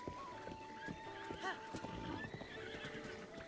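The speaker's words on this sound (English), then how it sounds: "Epona is such a absolutely gorgeous horse." Epona, the horse in the game Zelda: Breath of the Wild, lets out a whinny among rhythmic clip-clop hoofbeats as she trots, set against a low game soundscape at modest volume.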